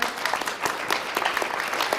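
Short burst of audience applause for a staff member before a film screening, a crisp patter of individual claps close by.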